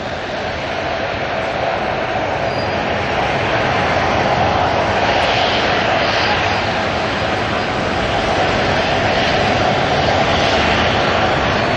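An ATR turboprop airliner lands at Auckland Airport, its engines a loud, steady, broad roar that swells slightly midway and holds throughout, with no voices.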